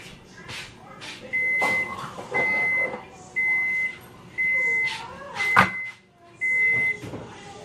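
A kitchen oven signals it has finished preheating with a run of steady electronic beeps, six evenly spaced half-second tones, clear and moderately close, with light household clatter around them.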